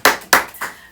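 Three sharp hand claps in quick succession on a podcast, close and distinct, each decaying briefly before the next.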